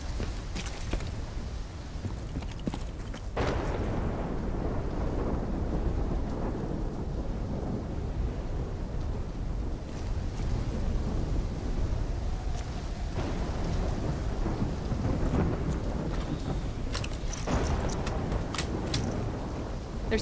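A heavy thunderstorm in the video game Call of Duty Black Ops 3 roars with dense, constant rain and deep rolling rumbles of thunder, loud and enveloping throughout.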